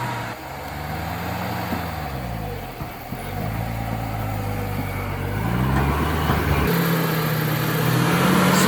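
A 1968 Ford F100 pickup, stuck after sitting twenty years in the woods, revs its engine hard, with pitch rising and falling through repeated throttle surges as the wheels spin, loud and close.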